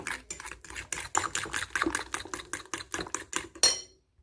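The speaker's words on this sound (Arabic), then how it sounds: "هكذا نخلطوها كما كتشوفوا" Cake batter made with yogurt being stirred by hand in a bowl, giving a steady run of rhythmic wet scraping strokes at close range, about a dozen in a row, with no talking.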